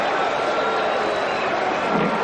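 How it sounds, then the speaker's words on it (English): Cricket stadium crowd during a New Zealand versus Pakistan match, a loud continuous roar of many voices sustained throughout without a break. "Listen to the crowd."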